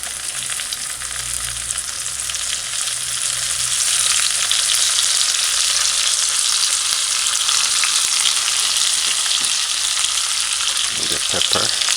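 Sweet pepper sautés in a pan over a low flame, giving a loud, steady hiss of frying that grows stronger after a few seconds, with occasional stirring knocks near the end.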